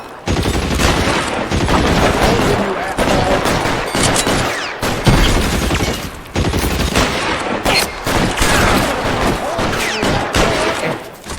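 A loud, dense gunfight rages in the crime game L.A. Noire, with overlapping pistol and rifle shots and bursts of automatic fire going almost nonstop, close and heavy with only brief gaps.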